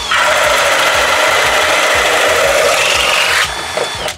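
A Milwaukee high-torque hammer drill grinding under load, loud and continuous with a rough rasping whine and rapid rhythmic pulsing, then cutting out near the end; no talking.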